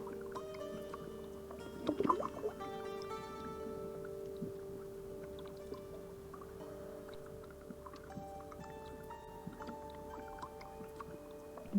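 Gentle water sloshing and lapping around a small sailboat, steady and close, with faint creaks and no voices.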